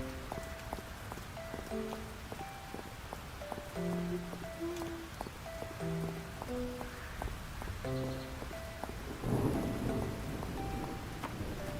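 Steady rain patters throughout the video game Fields of Mistria, with a low rumble of thunder swelling near the end beneath soft melodic game chimes.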